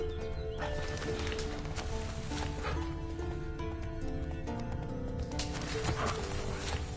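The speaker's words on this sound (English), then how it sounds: "Whoa, that's his horse." A horse whinnies and hooves clip-clop in The Witcher over a dense bed of music and game sound effects, continuous and fairly loud.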